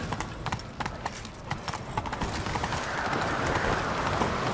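Horse hooves galloping in The Witcher 3: Wild Hunt, a quick clip-clop rhythm, loud and close, continuing steadily with a brief voice near the start.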